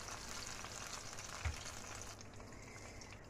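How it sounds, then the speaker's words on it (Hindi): Green masala paste for fish frying in oil, a faint, steady low sizzle with one soft knock partway through, no voices. "इसको 1 से 2 मिनट तक भून लेंगे अच्छी तरह"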